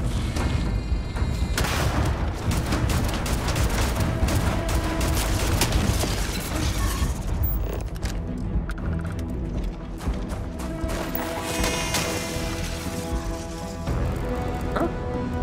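Gunfire in Starfield, a steady stream of rapid shots and distant booms rattling for most of the span, then thinner scattered reports, at moderate loudness with a soft voice briefly present.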